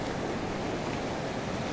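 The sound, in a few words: sea waves at Sirombu beach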